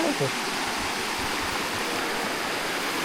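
Water pours steadily outdoors for bathing, a constant broad rushing splash like a small stream or spout, close and even from start to finish.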